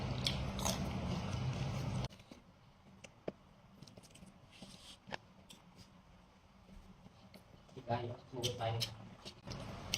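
Someone eating hot sticky rice with blanched and fresh vegetables, giving close, faint crunchy bites and chewing that turn into rapid chomping near the end, with a voice talking at the start.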